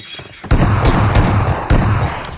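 Rapid gunfire in a shooting video game, two loud close bursts of repeated shots with heavy thumping low end, filling most of the clip.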